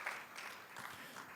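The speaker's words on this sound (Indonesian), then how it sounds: "Mari beri tepuk tangan yang meriah bagi Tuhan kita." A church congregation applauds during a Sunday service, a soft, distant, continuous patter of many hands clapping at once.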